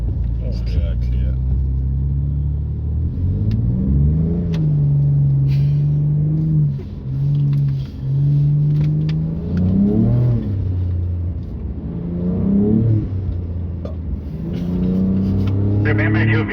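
A 2023 292 kW Ford Ranger Raptor is driven toward sand dunes in Namibia, its engine revving up and down in repeated loud surges over a steady rumble, with people talking over it.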